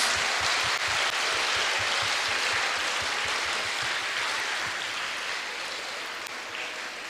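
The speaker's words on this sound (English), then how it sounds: "Give a loud applause to all your friends." Sustained, dense applause from a school audience at a patriotism-themed house assembly, loud and steady throughout with a faint rhythmic low thump beneath, easing slightly toward the end.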